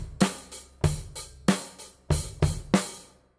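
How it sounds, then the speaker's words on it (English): A basic rock drum beat plays alone, with kick and snare alternating under steady cymbal hits in a simple repeating groove, loud and close. "the big dumb guy beat. The beat we all use on that rock and roll song"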